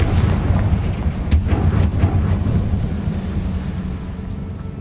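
A Confringo fire spell blast in the Hogwarts Legacy video game, heard as a loud, deep rumbling explosion with crackling bursts that slowly fade over several seconds, with no speech.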